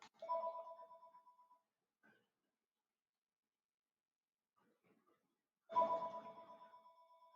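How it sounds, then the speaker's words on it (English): A phone rings twice in a quiet room, each ring a bright electronic warble fading over about a second, separated by several seconds of near silence. "Sorry about the phone ring."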